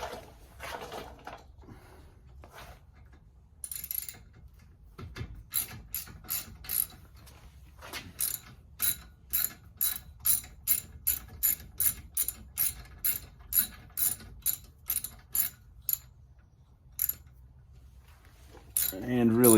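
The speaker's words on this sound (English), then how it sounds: "you've got basically a 7 millimeter hex to break these bolts loose" A ratchet with a 7 mm hex bit working loose the brake caliper bolts on a 2003 VW Beetle during a pad and rotor job: a long run of quick, evenly spaced metallic clicks, close and fairly quiet, with a few clanks earlier.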